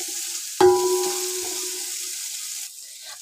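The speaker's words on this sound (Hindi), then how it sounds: "तो पहले हम जल्दी से सोते कर लेते हैं" Chicken sizzles as it is sautéed in a pan, with a sudden clank near the start followed by a brief ringing tone, then a steady close hiss of frying that carries on alone.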